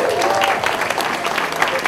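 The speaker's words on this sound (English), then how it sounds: "let's give the Miramar City Commission a round of applause." Audience applause at a community event honoring the Miramar City Commission, steady dense clapping close by for about two seconds with crowd noise mixed in.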